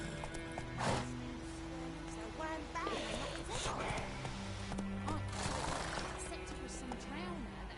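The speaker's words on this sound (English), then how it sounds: "Whoa there, Roach." A horse in The Witcher video game gallops with rapid hoof clip-clops and gives a whinny, all under game character dialogue. The whole clip is faint and steady in level.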